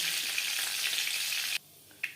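Panch phoron whole spices crackle and sizzle in hot oil in a steady, close frying hiss that cuts off abruptly near the end, followed by near silence and one brief sizzle burst.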